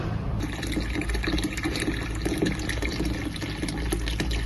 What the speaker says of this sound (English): the water flow should be checked to confirm that the tank fills correctly